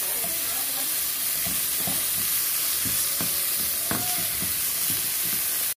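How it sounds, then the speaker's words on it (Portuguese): Shrimp being stirred in a bowl for a salad while preparing an Easter lunch, a steady close scraping and clattering rhythm with soft wet tosses over a constant background hiss. "agora eu tô misturando aqui os camarões"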